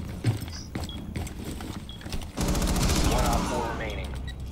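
Rapid automatic gunfire in the tactical shooter Rainbow Six Siege, a dense loud burst of shots in the second half that follows sparser game sounds and faint clatter.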